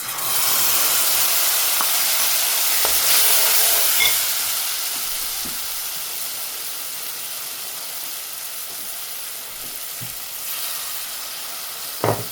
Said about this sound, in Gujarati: આપણે નાખી દઈએ મસાલો.